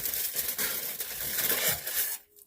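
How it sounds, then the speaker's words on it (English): Tinfoil crinkles and rustles close up as it is folded onto a section of hair during highlighting, a continuous crisp crackling that stops suddenly near the end. "And now I'm going to put tinfoil on that part of her hair"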